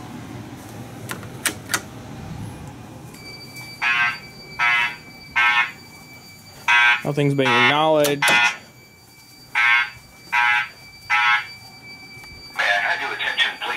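A building fire alarm system sounds repeated short electronic pulses in several bursts with a warbling tone in the middle, fairly faint indoors, while a person talks over and between the tones.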